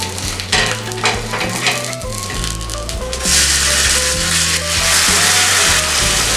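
A flipped vegetable pancake sizzles and crackles steadily in hot oil in a pan, with the frying growing louder and brighter partway through.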